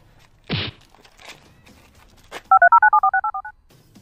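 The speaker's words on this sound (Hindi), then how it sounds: "चल फोन लगा।" A thud and some shuffling, then a quick run of about ten telephone keypad tones beeping in steady succession.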